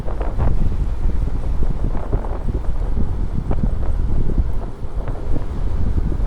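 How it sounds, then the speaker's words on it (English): Strong, steady wind roars across the microphone while riding a folding electric bike in rain, a constant low buffeting rumble with gust surges throughout. "And it's very windy out here too."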